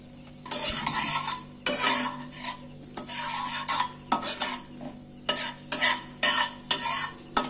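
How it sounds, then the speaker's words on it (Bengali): Whole spices, a piece of cinnamon, cardamom, cloves and cumin seeds, fried in oil and stirred, giving bursts of scraping and rattling against the pan over a low sizzle, in irregular strokes that speed up toward the end. "তেলের মধ্যে আমি ফোড়নগুলোকে দিনু একটু নাড়াচাড়া করে ভেজে নিচ্ছি"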